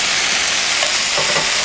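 Meat hitting a hot cast iron pan for chicken marsala, giving a steady, loud broadband sizzle and frying hiss with a few brief stirring scrapes, no voices.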